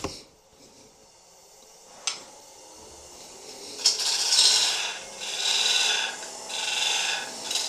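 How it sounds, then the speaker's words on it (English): A 3/8 bowl gouge lightly feathers the flat edge of an oak piece on a lathe, giving a soft hissing scrape that swells and fades in a few passes, preceded by a couple of sharp taps. "I'm going to take my 3/8 bowl gouge up, and I'm going to feather this flat edge back up"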